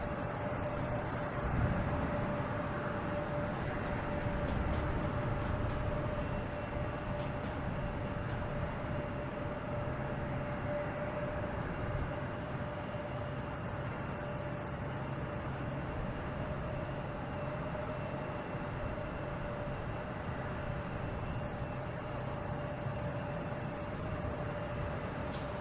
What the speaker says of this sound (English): I've got a Cape Air taking off here,